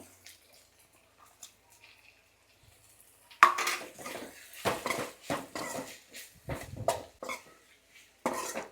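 Capsicum is tipped into a hot pan with ginger-garlic paste for bakery-style egg puffs, a sudden clatter followed by a run of close sizzling and stirring scrapes that rise and fall.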